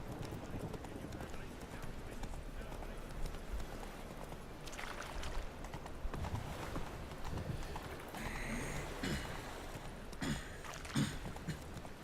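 Horse Roach trotting in The Witcher 3 video game, steady rhythmic clip-clop of hooves throughout, close and moderately loud, with faint voices and brief snorts in the background.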